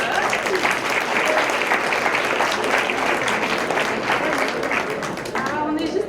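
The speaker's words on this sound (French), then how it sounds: "On peut encore les applaudir" A hall full of people applauding at a school merit gala, with steady, loud, continuous clapping that thins slightly toward the end.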